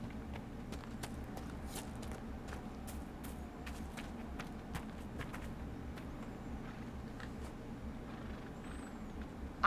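A horse in a fantasy role-playing game, a purebred Ferelden Forder, clopping its hooves at a steady walking rhythm, faint and mid-distance over a low ambient hum, with no one speaking.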